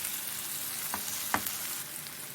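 Blue beef and hot peppers frying in a pan, a steady broadband sizzle with a couple of brief scraping stir strokes, close and fairly quiet, no voices.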